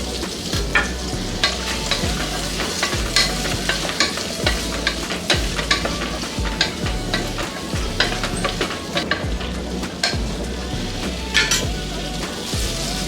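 Sliced onion and ridge gourd fry in hot oil, with a continuous loud sizzle broken by rhythmic scraping strokes of a spatula stirring against the pan throughout.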